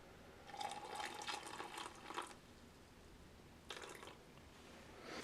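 Hot water being poured into cocoa beverage powder from a 1982–1985 US MRE ration, heard as two separate bursts of splashing liquid, a longer pour followed by a short one, fairly close.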